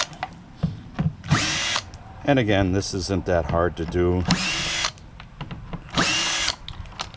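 A cordless power drill backs screws out of the hinges of a Coleman cooler in short, loud whirring bursts close by. Someone talks in between the bursts.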